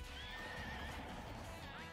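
A horse neighs with rising and falling whinnies over clip-clopping hooves in the Pocket Card Jockey: Ride On video game, loud and dense against a busy game soundtrack.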